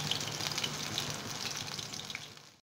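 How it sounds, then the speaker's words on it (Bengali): Chicken pakora fries in hot oil, a steady, close hiss and crackle with fine popping bubbles that holds evenly before cutting off abruptly. "এটাকে একটু ভাজবো"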